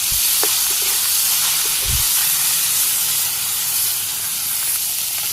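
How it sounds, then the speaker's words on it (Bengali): Fish frying in a pan gives a loud, steady, close hiss and sizzle that stays at a constant level throughout, with a few faint knocks in the background. "মাছ ভাজি প্রায় হয়ে গেছে"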